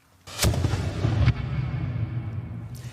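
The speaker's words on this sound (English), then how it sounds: "When the gunpowder in here explodes, it creates a huge amount of hot gas, the pressure of which drives the cannonball out of the barrel" A cannon firing with a gunpowder explosion: one sharp, loud blast followed by a second report, then a long rumbling roll that slowly fades, with no voices.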